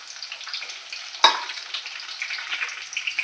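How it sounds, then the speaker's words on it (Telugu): Beans and capsicum strips tossed into a hot pan for fried rice, a close hissing sizzle that jumps with a sudden loud burst as vegetables hit the oil, then settles into steady crackling with stirring. "బీన్స్ కట్ చేసుకున్న ముక్కలు కూడా వేస్తున్నాను చూడండి అలాగే క్యాప్సికము పొడవుగా కట్ చేసి పెట్టుకున్నాము అవి కూడా వేసేస్తున్నాము"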